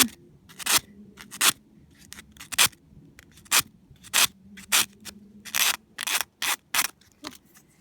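Scissors snip a nail wrap sizing template in a quick run of about a dozen crisp, close cuts, some paired, with faint rustling of the material between them and no talk.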